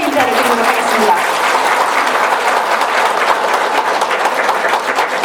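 Loud, sustained audience applause at a Buddhist dharma assembly closing a retreat session, dense and even throughout from a large gathering, with a brief voice at the start.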